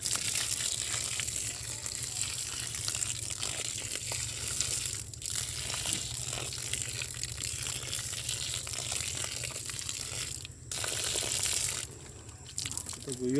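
Water is poured steadily over young grafted cocoa seedlings, making a continuous broadband splashing and trickling that keeps a steady level throughout, with no talk.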